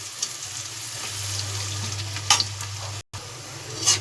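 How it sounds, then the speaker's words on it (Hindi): Onions, garlic and chillies sizzle and fry steadily in a pan with fenugreek seeds, a continuous close crackle with a low hum beneath, a few brief stirring scrapes and one short dropout near the end. "अब इन प्याजों को अच्छी तरीके से इनको भून लेना है।"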